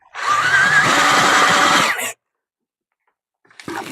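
A power drill whines loudly for about two seconds while enlarging a hole in a bicycle part at a cycle workshop, then cuts off abruptly, leaving silence before a brief clatter at the end.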